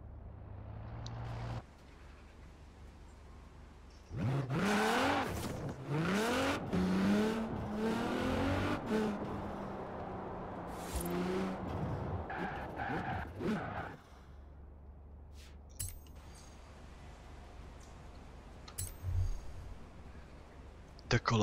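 A Nissan GT-R R35 engine in Forza Horizon 4 revs and pulls hard through rising, falling gear sweeps for about ten seconds, loud and close, then drops back to a low steady drone.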